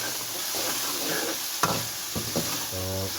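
Tomatoes fry in a pan for an aloo shimla mirch dish, giving a close, steady sizzle broken by stirring scrapes and clatters. A voice is heard briefly at the end.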